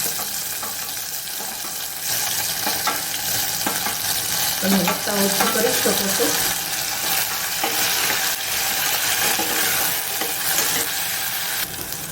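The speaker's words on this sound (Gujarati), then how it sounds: "કાંદા આપણા બ્રાઉન રંગ નાખી ગયા છે સતળાઈ ગયા છે તો હવે આપણે ટામેટા નાખીશું" Tomatoes go into browned onions frying in a pan, and a loud, close sizzle swells with stirring and scraping for several seconds, with faint clatter in the background.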